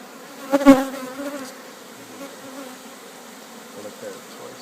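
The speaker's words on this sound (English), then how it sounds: "Put the bees right into the box" Honeybees buzz steadily and close by around hive frames, with a brief louder surge near the start before settling into a softer continuous hum.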